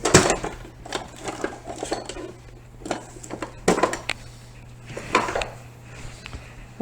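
Spatula scraping and knocking against a casserole dish while a cornbread chicken casserole is mixed, a series of irregular clinks and scrapes at close range with quiet pauses between.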